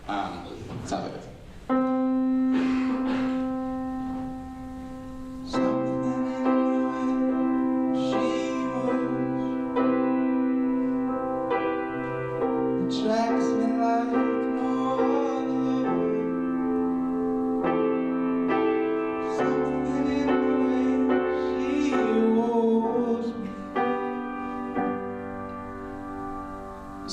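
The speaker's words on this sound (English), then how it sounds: "So there's another very relaxed, like floating through the sky thing with the descending chords" Sustained harmonic chords, likely piano or synth, step downward through a relaxed descending progression in a songwriting demonstration. Layered tones ring steadily at moderate volume for the whole stretch, and no voices are heard.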